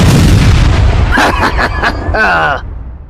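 Explosion sound effect in a superhero audio drama, a loud rumbling boom with low roar, followed by voices crying out over the fading blast.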